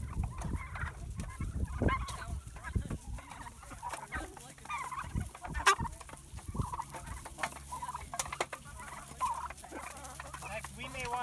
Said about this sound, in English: These are going to be the biggest chickens we've raised.